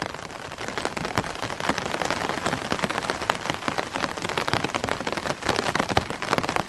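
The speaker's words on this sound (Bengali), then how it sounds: "কানে ভেসে আসছে শুধু ছাতায় পড়া ফোঁটা ফোঁটা পানির আওয়াজ" Raindrops patter on an umbrella along a rainy roadside lined with bushes, a dense, steady, close-up drumming that carries on without pause, with no voices.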